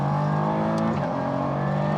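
A Praga Bohema sports car's engine pulls hard under acceleration in a steady, loud, continuous drone heard from on board, with a brief shift in pitch near the middle and no talking.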